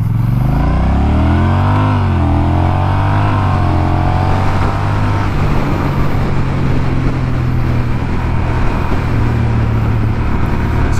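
A 2021 Honda Rebel 1100 DCT motorcycle accelerates on the road, its engine note climbing steadily through the gears as wind rush builds into a loud, continuous roar with no talking.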